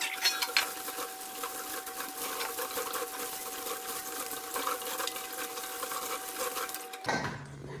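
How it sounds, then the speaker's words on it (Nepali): Beans rinsed by hand under a running cold-water tap make a steady splashing gush with faint clinks, which cuts off abruptly near the end. "मैले चाहिँ यसरी चाहिँ धाराको सल्ल बगिरहेको चिसो पानीमा चाहिँ छलछल गरेर चाहिँ थोरै थोरै गरेर चाहिँ नुहाए जसरी नै तरकारीलाई चाहिँ पखाले"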